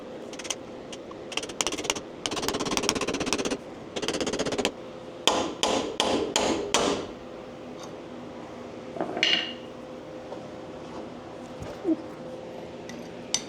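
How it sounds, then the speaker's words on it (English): Sharp metallic hammer blows strike a pickle fork wedged into a Jeep TJ ball joint, coming in dense bursts of rapid ringing hits, then a few scattered taps after a pause. "what I had to do on the other side was use the pickle fork,"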